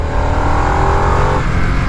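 Harley-Davidson Nightster motorcycle accelerating, its engine droning loud and steady with a deep airbox resonance, pitch rising slightly before easing off near the end.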